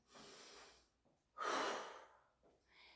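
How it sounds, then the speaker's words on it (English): Heavy breathing after an exercise session, with audible breaths in and out, one strong, loud exhale in the middle and softer breaths around it, close and without speech. "You'll notice you're breathing a little bit harder and faster."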